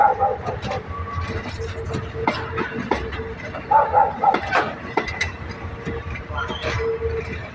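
A train rolls past in Thailand with rumbling wheels, clanks and squeals from the rail cars, loud and close, plus a few short barks mixed in.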